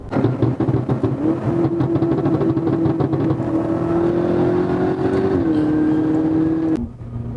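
A BMW M5 with a stage 2 exhaust and catless downpipes holds a steady, droning rev at quarter throttle, loud and close, with a slight pitch dip near the end before it settles back.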